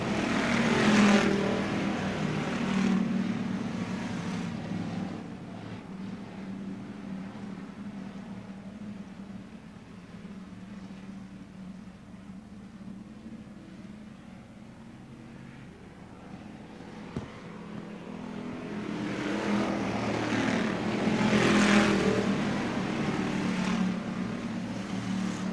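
Bomber class race cars line up at Bureau County Speedway, their engines a low, distant rumble that swells at the start and end and dips in the middle, steady and continuous.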